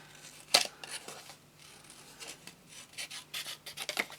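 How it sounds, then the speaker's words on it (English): Scissors fussy cutting 12 by 12 scrapbooking paper for card making: a sharp snip followed by a run of soft, close rasping cuts that quicken into irregular bursts toward the end. "I am going to fussy cut this"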